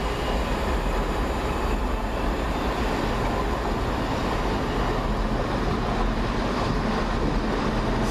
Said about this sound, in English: It's 334017 leaving as our train comes in.